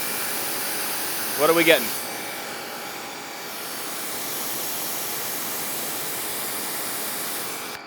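A new wall-mounted pressure washer runs at its maximum power setting, about 1400 PSI, giving a loud, steady broadband hiss that lasts the whole stretch, with a brief spoken question near the start.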